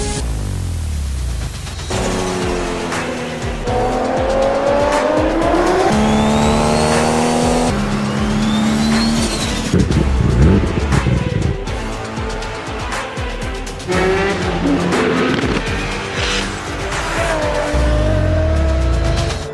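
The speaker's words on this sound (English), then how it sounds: "We're talking about the Nissan GTR." A Nissan GT-R engine roars continuously at close range, its pitch rising and falling through gear changes, while tires squeal in drawn-out skids.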